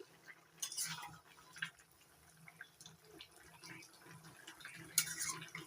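Jackfruit curry being stirred in a pan, heard as faint, scattered clinks and scrapes of a utensil against the pan, with quiet gaps between strokes and no voices.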